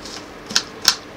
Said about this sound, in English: I dice the onions